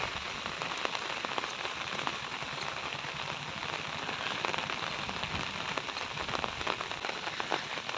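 Heavy rain pours down on a village road beside flooded paddy fields, a dense, even hiss of drops that stays steady and loud from start to finish.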